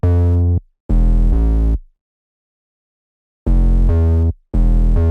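Deep 808 bass notes with pitch slides play from a wonky beat in FL Studio 21: four loud, booming, sustained hits in two pairs separated by a long silent gap, clean and isolated.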